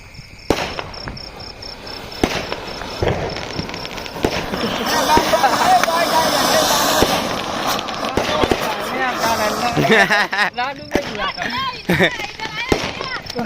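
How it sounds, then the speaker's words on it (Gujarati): Diwali firecrackers set off outdoors, with a scatter of sharp cracks and pops that cluster into a rapid crackling burst, amid people talking close by. "હવે હું થોડાક બોમ્બ ફોડ લઉં"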